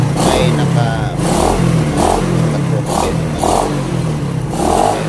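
A repaired Euro 110 motorcycle engine that had been hard to start runs and revs in repeated surges about once a second, loud and close, with someone talking over it.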